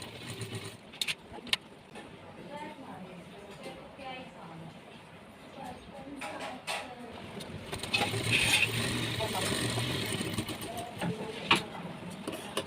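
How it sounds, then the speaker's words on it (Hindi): Sewing machine stitching along a half-inch gap while making a V-neck smock dress, a close rapid mechanical whirr and rattle building in the second half, with a voice talking over it. "ये जो 1/2 इंच का गैप है इस पर आपको प्रॉपर सिलाई चलानी है"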